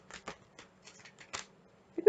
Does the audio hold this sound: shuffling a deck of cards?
yes